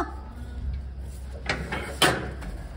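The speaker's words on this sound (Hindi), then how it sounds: "दरवाजा बंद कर लेना" A house door being closed, with a couple of close sharp knocks and a final thud of the door shutting over low room noise.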